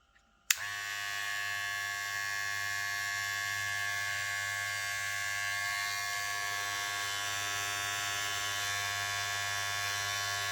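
A Wahl Dancer replica electric hair clipper switches on with a click and runs steadily, a loud continuous buzzing hum with no talking.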